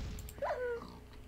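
A single short, high-pitched dog whimper from a Minecraft video game rises and falls over a quiet background.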